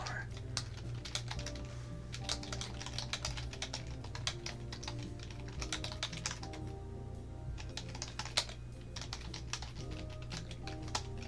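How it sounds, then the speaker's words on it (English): Rapid, steady clicking of fingers typing on a computer keyboard continues without pause, the crisp keystrokes sitting over a low constant hum. "Typing ASMR."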